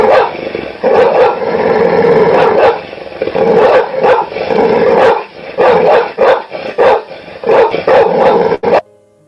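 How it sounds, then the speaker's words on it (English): Loud, close dog barking and growling as a warning on a cabin porch at night, coming in dense repeated bursts with snarling between them and only brief gaps, then cutting off abruptly. "The dog burst into a barking, growling warning"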